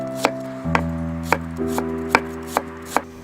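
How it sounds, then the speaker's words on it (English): A knife chops an onion on a cutting board for Chinese steamed pork buns, sharp evenly spaced knocks about every half second, close and clear over a steady background hum. "I mince the onion."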